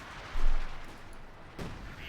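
A 25-pounder artillery gun in a Company of Heroes 2 battle fires one muffled boom, and a second, softer thump follows about a second later over steady low battlefield noise.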